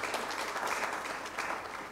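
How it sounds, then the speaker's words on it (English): Audience applause at a ceremony marking the International Day of Non-Violence, a steady wash of many hands clapping for two seconds with no talk over it. "Let's give a hand of applause to Ms. Atemi one more time."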